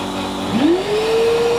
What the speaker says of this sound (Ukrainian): Ну, чути, увімкнувся.